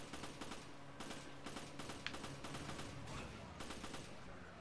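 Gunfire in the video game Resident Evil 5, dense repeated shots and bursts running continuously at steady loudness throughout, with a busy game soundscape underneath.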